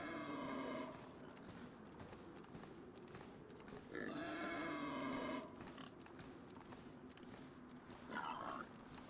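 Pigs grunting in the DayZ video game set in Chernarus: a few low, rough grunting bursts stand out against steady ambient game noise, close and moderately loud, with no talking.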